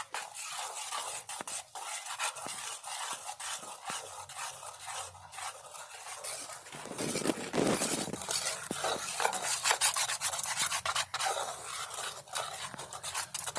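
Gram flour batter is stirred in a bowl, making soft rhythmic scraping and clinking strokes close by, quiet at first and getting louder partway through, with no talking.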